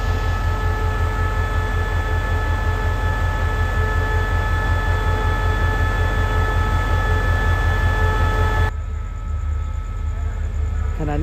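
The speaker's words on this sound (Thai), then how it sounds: "ได้เวลาปล่อยรถด่วนพิเศษขบวนที่38และ46ออกสุราษฎร์ธานีตามเวลาครับ" Thai special express train 38/46 pulls out at night bound for Surat Thani: a steady, loud low diesel rumble with a constant droning hum that drops and thins near the end.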